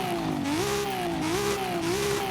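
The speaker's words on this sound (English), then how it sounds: "I forgot how good that motor sounds." A drift car's engine in Forza Horizon 5 revs loud and close, its pitch rising and falling in steady waves as it is held high throughout, with no talking over it.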